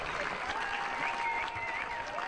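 A crowd at a country club welcomes arriving Marines from Twentynine Palms with steady applause and cheering, a continuous patter of clapping heard at a moderate distance.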